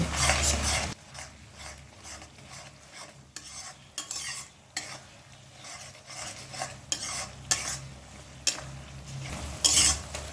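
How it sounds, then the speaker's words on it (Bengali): Cumin paste and turmeric masala being sautéed over a medium flame, with repeated scraping and stirring strokes of a spatula in the pan over a low, steady sizzle, the clatter growing sharper near the end. "গ্যাসটাকে মিডিয়াম ফ্লেমে দু থেকে তিন মিনিট মশলাটা কষিয়ে নেব"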